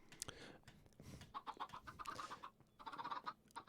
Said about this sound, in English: these chickens are not going to live because they're loud and annoying